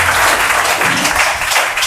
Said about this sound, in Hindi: पल्लवी के लिए एक प्यारा सा कलम आता हुआ एक जोरदार ताली होनी चाहिए